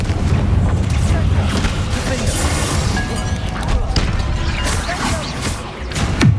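A Confringo fire-blast spell goes off in Hogwarts Legacy combat, a loud burst of booming, crashing impacts with rumbling debris and layered game effects that keep going.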